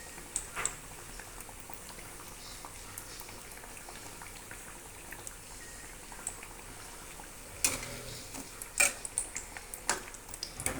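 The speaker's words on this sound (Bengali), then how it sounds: "এইভাবে ব্রাউন করে ভাজবেন চপগুলো" Potato chops deep frying in oil, a soft continuous bubbling fizz with occasional sharp pops and clicks of utensils, close but quiet.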